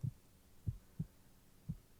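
Muffled, low heartbeat thumps in a close, quiet space, five soft beats at a quick, slightly uneven pace with no talking.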